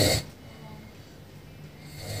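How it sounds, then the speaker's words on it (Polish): A roommate snores in a hostel dorm room, one soft rasping breath cycle between louder snores at the start and end, close and quiet. "W międzyczasie zmienili się goście w moim pokoju i dołożyli mi chrapacza z UK'a."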